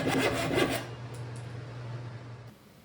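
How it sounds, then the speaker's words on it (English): Pull saw cutting through wooden table panels, close rhythmic rasping strokes that fade to a lighter scraping and a steady low hum before stopping. "we're going to be using a pull saw in order to cut off a big bulk of that"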